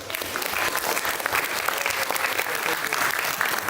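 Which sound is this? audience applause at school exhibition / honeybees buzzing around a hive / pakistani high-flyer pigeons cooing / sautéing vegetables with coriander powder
audience applause at school exhibition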